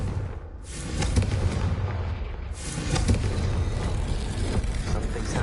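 Heavy, rumbling blasts of the Confringo spell in Hogwarts Legacy, two booming explosive surges with a sustained roar between them, loud and close.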